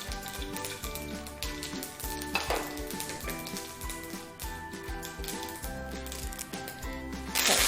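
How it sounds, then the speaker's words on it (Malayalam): Mustard seeds, urad dal, curry leaves and dried red chilli crackle and sizzle in hot oil for a peanut chutney tempering, with steady frying hiss and occasional clinks of a pan and spoon, close and fairly loud throughout. "കുറച്ച് എണ്ണ ഒഴിച്ചിട്ട് കടുകും ഉഴുന്ന് പരിപ്പും പിന്നെ കറിവേപ്പിലയും വറ്റൽമുളകും ഇട്ട് താളിക്കാം"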